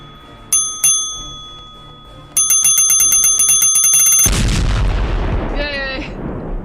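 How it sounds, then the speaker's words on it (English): A bell sound effect in The Legend of Pirates Online rings twice in quick succession, then a steady run of bright chimes gives way to a loud explosion that lingers and fades under a faint chirping tone. "I was making a joke about your bell sound that explodes"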